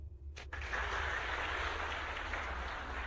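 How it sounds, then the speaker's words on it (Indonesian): Applause from a church congregation during a lighthearted sermon, a steady broadband patter of clapping that swells after a brief pause and holds at an even level for about three seconds. "Tepuk tangan."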